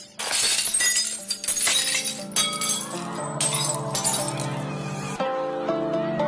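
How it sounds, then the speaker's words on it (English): A drinking glass shattering from the sound of a singer's voice, a sharp loud burst of breaking glass followed by ringing, tinkling fragments and sustained resonant tones fading out. "all the energy in the sound of the singer's voice is transferred to the glass, and it shatters"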